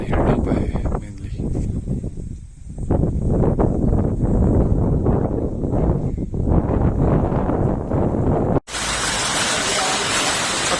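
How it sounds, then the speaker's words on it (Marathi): Cold wind on a hilltop in Kerala buffeting loudly and continuously at close range with gusty roaring rushes, then cutting abruptly into a steadier hiss near the end. "थंड वारा आहे"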